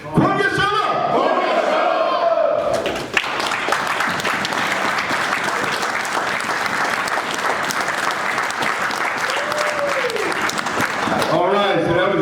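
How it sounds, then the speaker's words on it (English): Audience applause at a summit, loud sustained clapping from a large crowd with scattered cheers, lasting most of the span, with a voice speaking briefly at the start and end. "Give us standing up a round of applause"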